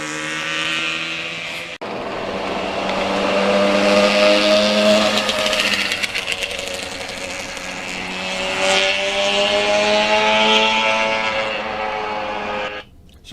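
A restored 1985 Yamaha RZ350 Kenny Roberts Edition, a two-stroke motorcycle with a rebuilt engine, revs through its exhaust pipes in a loud buzzing drone that rises and falls in pitch as it passes close by.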